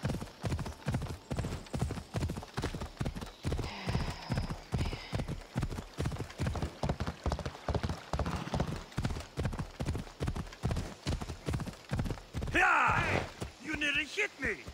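Rhythmic clip-clop of horse hooves trotting steadily throughout in Assassin's Creed Odyssey, close and even, with a brief whinny and other game sounds near the end.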